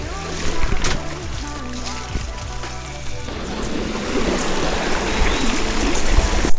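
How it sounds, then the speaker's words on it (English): A mountain bike rides through a river in Cornwall, with a broad rushing splash of water building and churning continuously up close as the wheels plough through the current. "River crossing."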